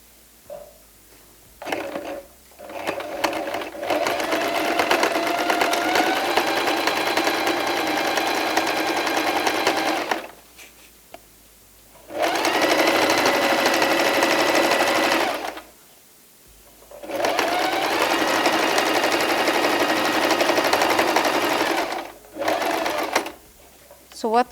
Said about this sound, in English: You can just fold in twice and sew along the edges.